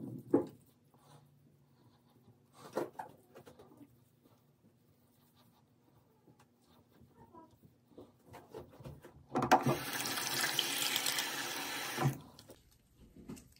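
Tap water runs into a bathroom sink during a morning skincare routine, a loud steady hiss starting partway through and lasting a few seconds before cutting off, with faint handling clatter earlier.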